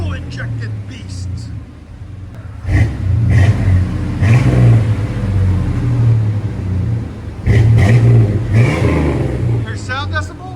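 A 1992 GMC Sonoma pickup with a fuel-injected 4.3L V6 and dual Flowmaster-style knockoff exhaust idles with a deep rumble, then revs loudly in several hard blips close by, with no talking.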